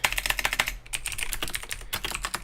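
Rapid clattering keystrokes on a computer keyboard, close and crisp, typed in quick irregular bursts with a brief pause between them.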